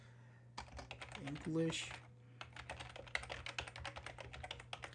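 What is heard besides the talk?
typing a website address on a computer keyboard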